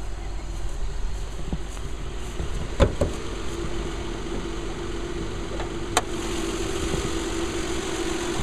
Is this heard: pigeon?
no